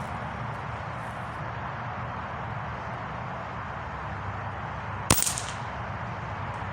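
A single sharp shot from a Hatsan Hydra .22 PCP air rifle firing a Crosman Premier pellet, a brief crack standing out against steady outdoor background noise.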